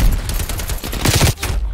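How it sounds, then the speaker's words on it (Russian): An AK rifle in Call of Duty Black Ops Cold War on the Hijacked map fires a rapid, loud close-range burst of automatic shots that cuts off sharply after under two seconds. "стреляет этот калаш."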